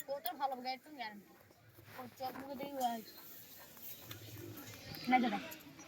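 A pigeon coos in soft, repeated throaty phrases close by, with people talking around it.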